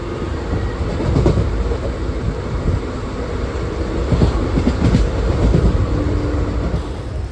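Passenger train rolling along the tracks in the morning after pulling out of a station, a steady loud rumble with faint clickety-clack of the wheels and no talk.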